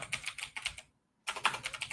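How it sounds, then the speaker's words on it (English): Rapid clicking keystrokes on a computer keyboard, close and crisp, in two quick bursts separated by a short silent gap, with no voices. "I was typing Lego Pokemon, see what happens."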